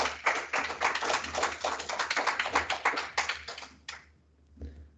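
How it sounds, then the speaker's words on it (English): Applause follows an academic doctoral presentation: a burst of dense, close hand clapping that thins after about four seconds, then a few last claps. "a lot of applause, I suppose"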